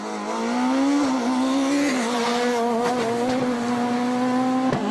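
Skoda S2000 rally car on a stage through vineyards at a WRC event in Germany, its engine note loud and sustained at high revs, dipping briefly on a gear change before climbing again.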